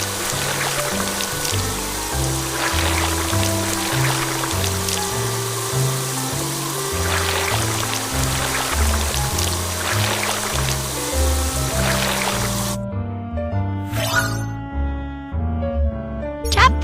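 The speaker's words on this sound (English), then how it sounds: "First, drag the water sprayer to rinse off the mud." A cartoon water sprayer rinses mud off a vehicle at a car wash, a steady hiss of running water under a bouncy musical backing that drops out near the end, leaving brief tinkling tones.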